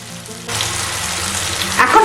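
Two spoons of sour yogurt dropped into thickened spice paste frying in oil, setting off a sudden loud, close sizzle that holds steady, with faint stirring scrapes toward the end.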